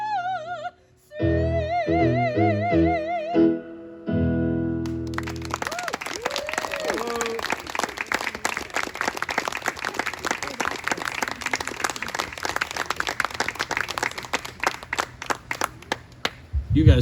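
An audience applauds and cheers for a performer at an outdoor picnic event, a dense steady wash of clapping that follows a burst of music and carries on loudly to the end.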